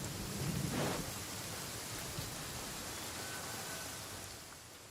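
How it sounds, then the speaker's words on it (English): Thunderstorm in Genshin Impact: steady heavy rain hiss with a low thunder rumble swelling early on, then the downpour continues evenly and fades slightly toward the end, with no voices. "Oh, thunderstorm."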